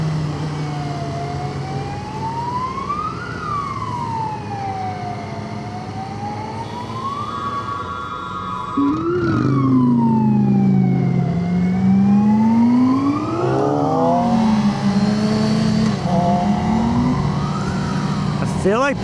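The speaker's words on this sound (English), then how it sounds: "I can't really lane filter past a ambulance," A wailing siren rises and falls repeatedly over steady traffic noise, growing louder partway through as a second siren tone joins in.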